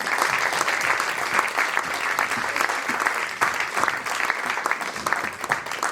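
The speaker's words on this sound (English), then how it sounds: "Round of applause, everyone." A crowd claps steadily and enthusiastically, a dense continuous patter of applause that carries on throughout.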